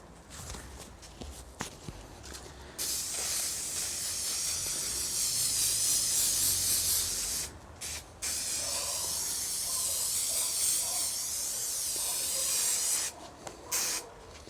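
Contact adhesive sprayed from a can onto four-way stretch carpet while lining a camper van: long, steady, loud close hissing bursts, broken by brief pauses, with a short spray at the start and another near the end.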